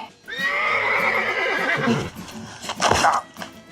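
A mare neighs loudly in a long, shaky whinny, followed by a shorter second call, close and clear with no talk over it.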